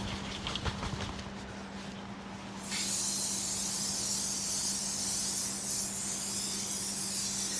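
An aerosol can of engine degreaser bursts into a loud, steady hiss partway through, spraying continuously over an engine bay with rubber hoses and gaskets, close and unbroken after a short stretch of quieter clatter.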